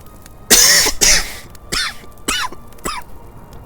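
A rough smoker's cough from a character in the Final Fantasy XI game, heard as five loud hacking bursts in a row, the first two strongest and the last three shorter, with no talking.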